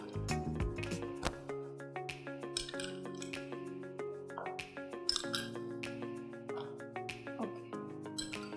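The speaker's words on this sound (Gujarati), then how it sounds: "તો એમાં આપણે આઈસ ક્યુબ એડ કરીશું." Ice cubes clink into a glass of watermelon mojito with lemon pieces, giving a few faint, bright knocks and chimes over soft background music.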